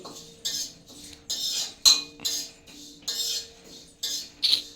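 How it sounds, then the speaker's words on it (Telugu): Fennel seeds dry roasting in a pan, stirred in regular bursts that rattle and scrape against the metal about once every half second, close and moderately loud with no talking. "ఇలా సోపును కూడా మంచిగా కొంచెం గోల్డెన్ కలర్లో వచ్చేంత వరకు మనం ఇలా వేయించుకోవాలి."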